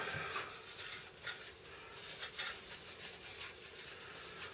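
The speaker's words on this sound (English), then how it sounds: "this is just a final little um, wipe over just to remove any" Soft, repeated rubbing strokes, a cloth wiped over a primed model in short passes to remove dust, close and quiet with no talking.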